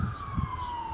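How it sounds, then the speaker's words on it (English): An ambulance siren sounds from a distance near Cheltenham Spa railway station, a faint steady wail with a slowly falling pitch over a low rumble of background noise. "Yep, ambulance."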